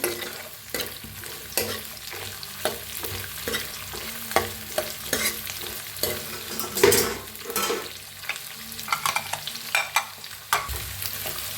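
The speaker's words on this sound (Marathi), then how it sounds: "आता ह्याच्यात टाकूया कांदा तिच्यातच मिरची टाकूया शिमला मिरची छान असं भाजूया" Onion, green chili and capsicum fry in a pan, a steady sizzle broken by frequent scraping and stirring clatters of a spoon against the metal, close and fairly loud with no voices.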